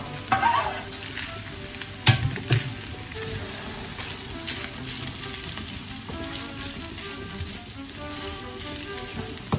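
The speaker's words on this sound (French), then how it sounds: "Il faut que notre hachis grille" Duck hash with onion and shallot frying in a pan over low heat, an even close sizzle broken by a few sharper stirring scrapes and knocks of a utensil against the pan.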